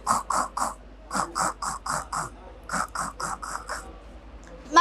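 A voice imitating a coconut being grated during a mimicry competition at the Kerala school arts festival, giving rhythmic bursts of three or four scraping strokes separated by brief pauses, close and clear.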